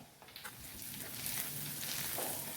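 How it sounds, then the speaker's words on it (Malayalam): Fenugreek seeds frying in hot oil in a pan for a prawn mango curry, a continuous soft sizzle with light scraping of the spoon as they are stirred, fairly close and steady. "ഉലുവ ഒന്ന് മൂക്കുന്നിടം വരെ ഒന്ന് ഇളക്കി കൊടുക്കാം"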